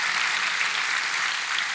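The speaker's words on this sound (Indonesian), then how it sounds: "Berikan tepuk tangan buat Tuhan." Church congregation applauding, a dense, steady burst of clapping at moderate distance, with no talk over it.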